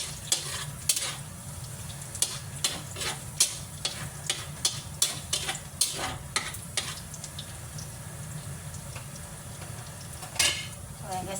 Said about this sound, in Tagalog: Kumukulo na yung ating kawali. Kumukulo na ating mantika